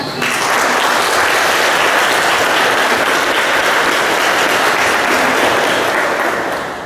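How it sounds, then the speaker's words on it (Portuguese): A church congregation at a mass for needy families applauds, a loud, dense, sustained wash of clapping from many hands that swells quickly and holds steady before easing slightly at the end. "Vocês também merecem uma salva de palmas."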